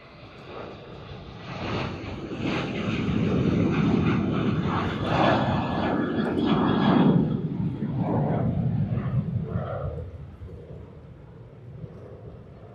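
Jet aircraft engines roar at Sydney Airport, a broad rushing rumble that swells over several seconds, peaks near the middle and then eases off, with some wind buffeting the microphone.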